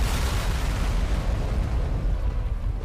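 The ground blows apart in the video game Bayonetta, a loud, sustained, rumbling explosion with a heavy low roar that stays strong throughout and fades only slightly at the end. No voices are heard over it.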